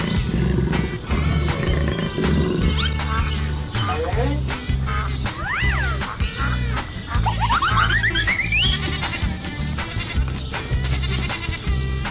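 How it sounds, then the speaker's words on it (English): A big cat roars in a cartoonish, cheerful setting, the roar rising and falling over several seconds. Bright children's music and animal bleats play alongside it. "Jaguar."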